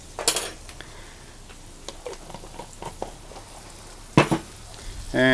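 Garlic and shrimp sizzle on a Blackstone griddle at medium heat, a soft steady fry broken by sharp metallic clanks and scrapes of a utensil against the flat top.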